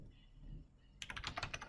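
Quick, uneven keystrokes on a computer keyboard begin after a quiet stretch and clatter close by for several taps, with no talking.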